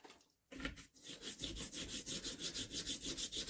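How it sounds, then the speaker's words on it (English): A small nylon brush scrubs grime off a Villiers engine with fast, even back-and-forth strokes, giving a rhythmic close bristly rasp after a brief quiet start. "My little nylon brush I've got here, and just give him a good little scrub around."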